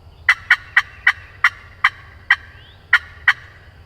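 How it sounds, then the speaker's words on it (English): A wild turkey in Mississippi woods gobbles in a quick run of nine sharp, loud calls. The calls come at fairly even intervals over a quiet background, with no talking. "Turkey gobble."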